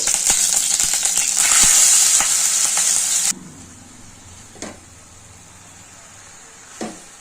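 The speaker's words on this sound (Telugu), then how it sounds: "కొద్దిగా నెయ్యిలో కొద్దిగా వేయించుకున్నామండి" Grated beetroot frying in ghee for halwa, a loud close hissing sizzle for about three seconds that drops off abruptly, followed by quiet with two faint scraping stirs.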